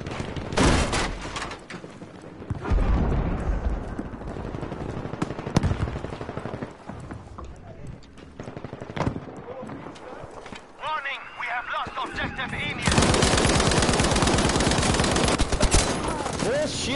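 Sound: gunfire in a video game

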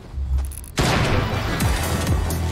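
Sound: gunshots in a video game

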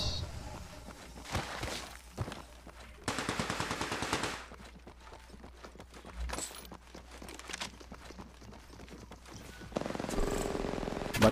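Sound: gunshots in a video game

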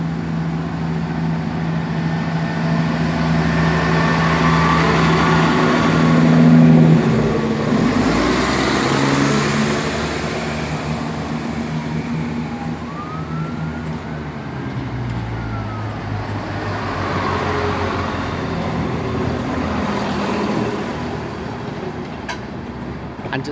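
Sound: train departing Oxford station, service to London Marylebone

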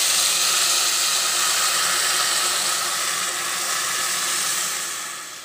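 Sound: dal poured into hot tempering, sizzling

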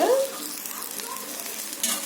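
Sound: frying in oil for brinjal chutney

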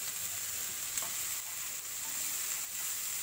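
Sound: stirring green beans (achinga) in a pan

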